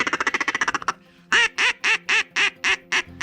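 A duck call is blown to imitate duck quacks: a fast run of about a dozen short quacks, a brief pause, then eight longer, evenly spaced, loud nasal quacks, close and alone.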